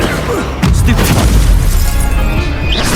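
A Stupefy spell cast in Hogwarts Legacy during a wizard duel lands as a loud, short blast with a boomy crackle that rings briefly, with a voice nearby.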